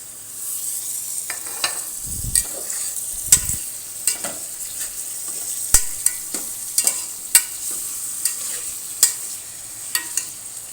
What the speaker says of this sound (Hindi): और ये जो अदरक लहसुन का पेस्ट है इसको भी डाल देंगे और इसको हम 5 मिनट तक भूनेंगे